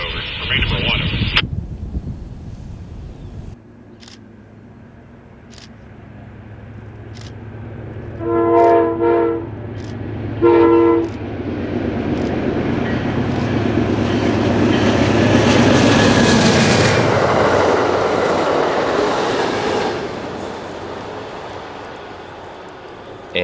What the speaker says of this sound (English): Borealis from Chicago to St. Paul, Minnesota is approaching quickly.